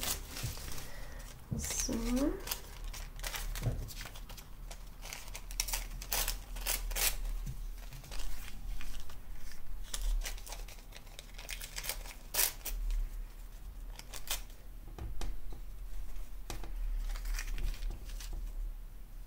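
Paper being handled for decorating a Filofax journal, with crisp rustles, taps and shuffles close by throughout, and a voice briefly talking over it.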